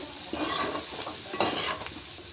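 Duck curry is stirred as it fries in oil in a pot, with close bursts of sizzling and scraping spoon strokes over a steady frying hiss, and no one talking.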